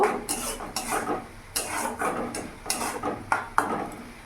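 Pea and mushroom masala stirred in a pan over a medium gas flame, with repeated scraping strokes of a spoon against the pan in an uneven rhythm, close and moderately loud, with no talking.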